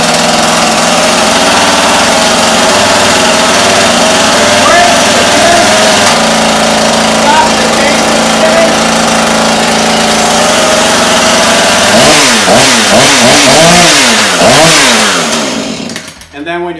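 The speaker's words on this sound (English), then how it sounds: "properly start a chainsaw" A Husqvarna 440 chainsaw two-stroke engine runs loud and close at a steady buzzing idle throughout, with a burst of rising and falling revs near the end before it cuts out.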